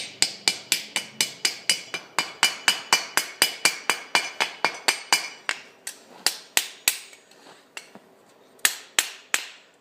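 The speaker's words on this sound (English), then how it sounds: "I like to use a bit of wood. And we'll just bash him around a bit." Rapid repeated sharp bashing strikes of a piece of wood against a twisted metal cheese knife, roughly thirty loud ringing knocks in quick steady rhythm with a brief pause near the end before a final few blows.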